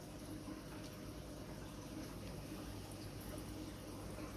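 Water circulates through plastic bottles in a homemade DIY aquarium filter, a soft continuous trickle and bubbling over low hum, faint and steady.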